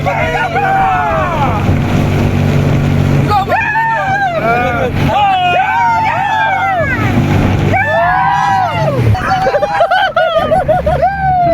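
A speed boat runs on the Alappuzha backwaters in Kerala, its engine droning loudly under wind buffeting, while people chatter and shout excitedly over it throughout.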